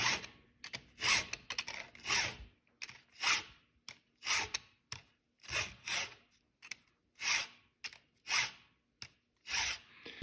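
A chainsaw chain is sharpened with a chain sharpener, a close rhythmic rasping of file strokes, roughly a dozen distinct swipes evenly spaced with short gaps, loud and without talk.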